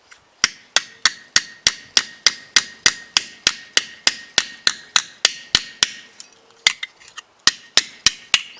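A small hammer strikes a metal part being shaped and curved for fine work, about twenty-five sharp, evenly spaced blows ringing close and loud, with a brief pause near the end before the steady tapping resumes.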